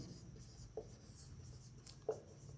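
Pen or marker strokes sound faintly on a board or page as a teacher writes out the international number system during a maths lesson, two soft scratchy strokes over a quiet room hum.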